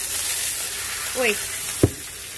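A dipped birria tortilla hisses steadily on a hot griddle, a continuous close sizzle with a brief voice and a small knock partway through.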